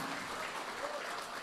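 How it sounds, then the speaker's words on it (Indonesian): Audience clapping at an Indonesian public talk, a dense steady wash of applause that holds evenly through the whole moment. "Kita kasih tepuk tangan."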